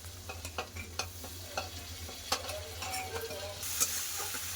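Ginger-cumin paste frying in oil in a pan with tomato and spices, a continuous sizzle broken by sharp scraping and tapping strokes of a spoon, close and without speech.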